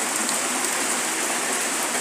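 Steady rain falling in the Nyalenda slums of Kisumu, Kenya, a dense, even hiss of drops pattering on surfaces throughout, close and unbroken with no voices.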